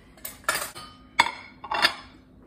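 A knife saws through peanut butter and jelly brioche French toast on a plate, giving three close scraping strokes with a sharp clink of metal on the plate between them, fairly loud against a quiet room with no talking.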